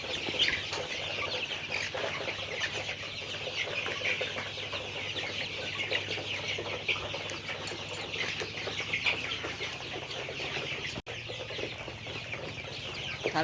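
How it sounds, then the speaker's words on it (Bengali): A rooftop flock of Sonali breed chickens clucks continuously in a busy, even murmur, with a steady background hum and no voices. "এগুলো অনেক চঞ্চল প্রকৃতির হয়ে থাকে, সোনালি জাতের মুরগিগুলা"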